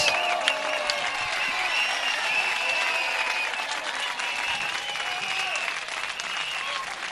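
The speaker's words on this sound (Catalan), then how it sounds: "Aplaudiments espectaculars per aquest excepcional vers." A crowd applauds after a verse recited at the Dragon's Verses during the Sitges Festa Major, sustained clapping with some crowd noise and scattered high whistles or cries over it.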